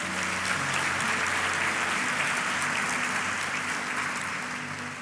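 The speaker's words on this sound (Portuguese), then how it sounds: "Aplauda Jesus mais uma vez." A large church congregation claps steadily and loudly throughout, a dense wash of applause filling an indoor space, with a faint voice and a low hum underneath.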